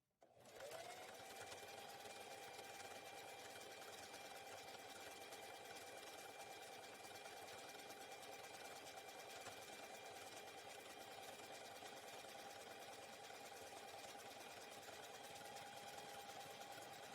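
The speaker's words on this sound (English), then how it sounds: "we're just gonna sew along the edge with a 1/4 seam allowance" A sewing machine stitches fabric for a dog bow tie, running in one continuous, steady whirring hum from start to finish with no talking.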